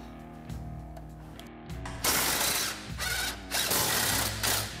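A ratchet works on the A-arm bolts of a Polaris Ranger XP1000 during a rear suspension teardown, giving bursts of rapid clicking and mechanical whirring at close range over a steady background hum, with no talk.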